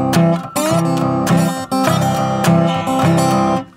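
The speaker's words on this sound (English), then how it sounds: "now he's adding a slide in there too, so he gets some notes to sound like this" Slide guitar in hill country blues style: sliding notes glide between pitches over strummed acoustic chords, played close and loud with brief pauses and no voices.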